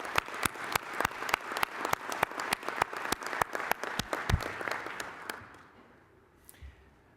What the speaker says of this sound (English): So let's give the sponsors a round of applause